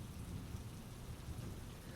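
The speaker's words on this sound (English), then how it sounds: "nothing to dispel the steady pat-pat of the rain" Steady rain falls continuously, a dense, even patter with no pauses and no voices over it.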